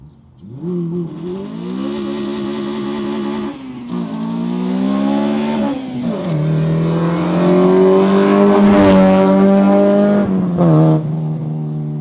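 An 8th-generation Honda Civic Si fitted with Skunk2 Alpha headers revs hard and loud for about twelve seconds, climbing through several sweeping rises and dips in pitch, with no talking over it.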